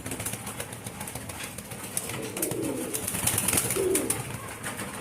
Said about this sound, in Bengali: এটা আমাদের ফ্লাইং লফটের কবুতর একটা মাদি